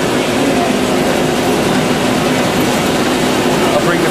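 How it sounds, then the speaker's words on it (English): A Ryobi 524 printing press with a suspension feeder set up for #10 envelopes gives off loud, steady mechanical clatter and whirring that runs unbroken from start to finish, close and dense. "Now, I'll raise the feeder up by loosening the 2 knobs back here."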